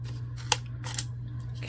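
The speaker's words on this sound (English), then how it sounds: "here I'll just cut it with this" Craft material being cut, a few sharp scissor-like snips spaced apart over a faint steady hum, close and quiet, no talk.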